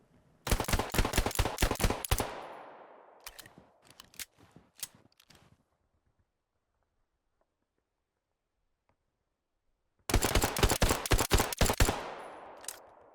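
Pistol fire from a Luger in the video game Hell Let Loose, rapid bursts of loud sharp shots with echoing tails, then several seconds of silence before another quick string of shots.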